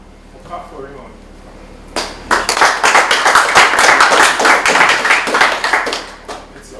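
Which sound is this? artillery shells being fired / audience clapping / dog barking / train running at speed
audience clapping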